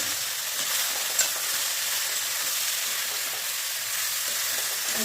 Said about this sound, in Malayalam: നമുക്ക് ഈ വഴുതനങ്ങ ഇട്ടിട്ട്